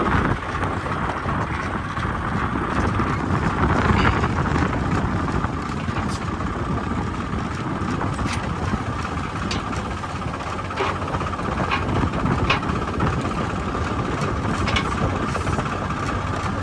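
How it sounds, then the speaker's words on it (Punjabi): A steady, rumbling model 855 tractor engine runs continuously at close range in a farm field, with faint mechanical rattles and clicks over the drone. "ਉਹ ਟਰੈਕਟਰ ਆਪਣਾ ਉਹ ਚੱਲ ਰਿਹਾ 855"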